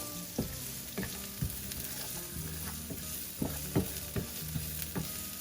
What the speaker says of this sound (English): Saute those for a little bit. Infuse the oil.